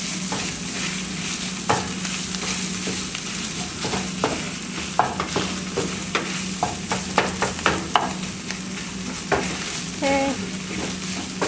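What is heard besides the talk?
stirring sambosa filling with tomato paste in a pan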